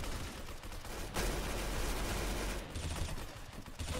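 Gunfire in the Roblox shooter Arsenal, dense rapid bursts of shots rattling almost nonstop with brief gaps, loud and close with no talking.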